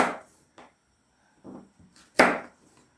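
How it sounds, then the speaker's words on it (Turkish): A knife chops on a board in a few sparse, close thuds, the last one sharper and louder, with quiet gaps in between. "Bu şekilde doğrayalım."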